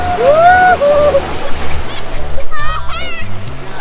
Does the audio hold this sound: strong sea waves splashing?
yes